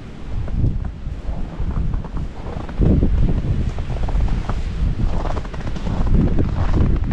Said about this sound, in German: der Wind wie hier bei 100 km die Stunde